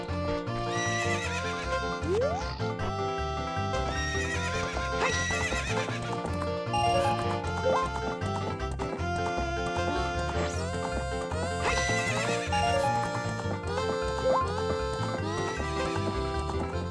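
A horse whinnies and its hooves clip-clop in the video game The Legend of Zelda: Ocarina of Time, steadily over loud, continuous game music.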